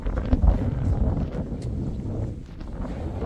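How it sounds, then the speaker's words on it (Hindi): Strong wind blowing across an open hillside college campus near Mussoorie, a steady loud roar buffeting the microphone with low rumbling gusts throughout. "क्या जबरदस्त हवा चल रही है यहाँ"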